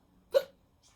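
A storyteller's voice imitates a single hiccup, one short sharp vocal gulp standing alone in near silence, close and moderately loud.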